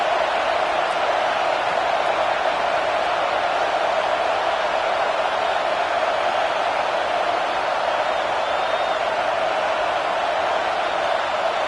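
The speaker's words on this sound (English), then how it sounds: "Listen to the crowd energy here in the early going." Stadium crowd noise from a college football video game matchup between Fresno State and Wisconsin, a steady, loud, unbroken roar of a large crowd that holds constant throughout with no distinct cheers or breaks.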